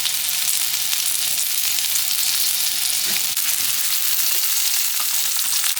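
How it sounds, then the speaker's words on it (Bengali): Onions frying in a pan for shrimp pasta give a loud, dense, continuous sizzle that holds steady throughout with no talking. "এবার পেঁয়াজ ভেজে নেব।"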